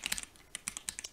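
Key presses on an ROG Azoth mechanical keyboard with ROG NX Brown switches: a quick run of crisp clacks in two short bursts, close and clear with no talking.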